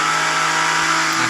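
Nissan Skyline R33 engine held at a high, steady rev, a loud continuous mid-pitched drone with a constant tone and no breaks.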